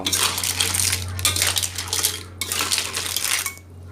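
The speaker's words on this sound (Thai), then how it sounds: "ปิดแก๊สแล้วก็คลุกใบโหระพาให้เข้ากันกับผัดหอยของเรา" Stir-fried clams in a pan are tossed with basil off the heat, shells clattering and scraping against metal in bursts with short pauses, close and loud over a low steady hum.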